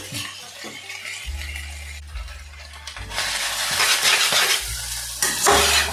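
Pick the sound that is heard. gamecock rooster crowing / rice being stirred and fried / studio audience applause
rice being stirred and fried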